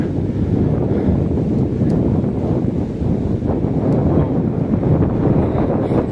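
Heavy wind roars continuously into the microphone as a rider pedals a bicycle across a long bridge in the Netherlands, a dense unbroken rumble with no voices.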